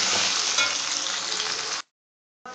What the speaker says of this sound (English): Put in the coriander powder, the chili powder, the turmeric powder into the ghee, and you're going to stir for just a little while